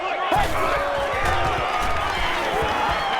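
A stadium crowd in the Madden 10 American football video game roars in a dense, continuous wash of cheering, loud and steady throughout.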